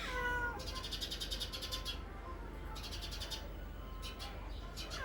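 A cat meows repeatedly in short high-pitched calls, some in quick runs, close by in a hot-weather setting, with steady background noise and no talk over the calls.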